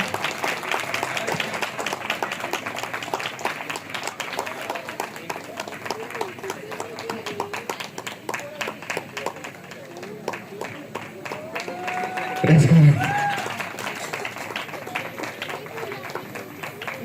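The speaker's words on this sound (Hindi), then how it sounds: "तालियां तालियां।" An audience at a Christmas celebration applauds while someone is called to the stage. Brisk, crowded clapping runs throughout, mixed with voices and crowd chatter, and one louder burst comes near the end.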